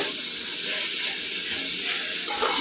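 Two spoons of ginger garlic paste fry in hot oil for vegetable fried rice, giving a steady, loud, continuous hiss and sizzle that holds throughout with no break.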